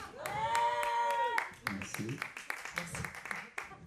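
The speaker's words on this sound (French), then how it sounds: "Sous la foule en délire." Crowd at a French music show claps and cheers, with a sustained shouted cheer at the start giving way to scattered, close clapping, while a voice briefly speaks over it.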